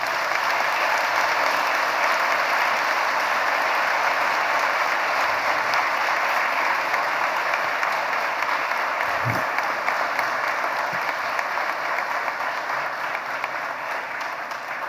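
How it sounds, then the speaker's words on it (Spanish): An audience at a cybersecurity forum gives panelists a long, even round of applause, the dense clapping holding steady and fairly loud for the full fifteen seconds with a brief thump partway through. "A todo el público asistente les suplicamos de la manera más atenta un aplauso para nuestros panelistas."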